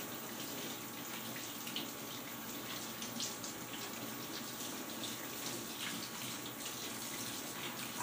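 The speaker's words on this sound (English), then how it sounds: "all it takes is me to rinse it off and it just looks like new" Tap water runs steadily over a plastic item being rinsed, a continuous moderately quiet splashing flow from start to finish.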